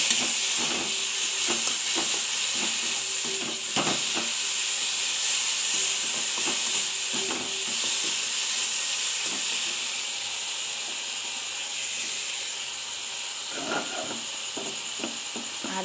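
Ginger and garlic paste sautéing in a hot pan for a chickpea and paneer dish, a steady close sizzle and hiss with intermittent scraping stirs.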